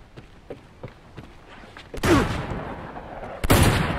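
Pistol fire in the video game Uncharted 2 comes as two loud, sharp blasts with rumbling tails, following a run of soft light taps.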